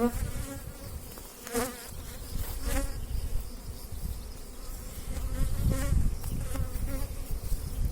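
Honeybees buzz steadily around beehives in a summer apiary, a dense insect drone that stays continuous throughout, with a few sharper passes of individual bees flying close by.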